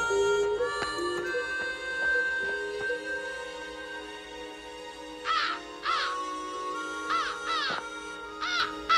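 Crows cawing in The Sims 2 video game, several sharp repeated caws arriving in short bursts over a steady tonal game background, fairly close and clear.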